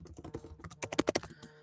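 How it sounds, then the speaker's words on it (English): Fast, forceful typing on a computer keyboard, a dense run of close key clacks that gets louder and heavier in the middle, with no voices. "Sorry for the aggressive typing, by the way."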